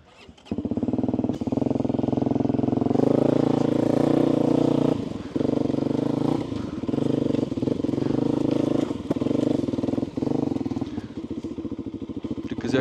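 A VOGE 300 Rally motorcycle ridden off-road, its engine droning loud and close with repeated revs and dips in throttle as it moves over rough ground.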